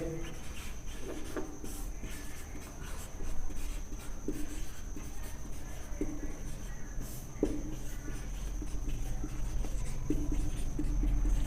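Pen scratching on paper while a math problem is worked out by hand, with steady faint rubbing strokes under a constant high hum and a noisy background.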